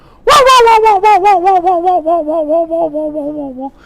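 A voice gives a loud, wavering, nasal cry that slowly falls in pitch, mimicking the call of a startled peacock as it flies away.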